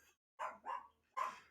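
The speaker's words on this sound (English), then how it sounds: "Spike's barking like a bastard because he's very excited" Spike, an excited dog, barks three times in close succession, the sharp, near barks separated by short silences.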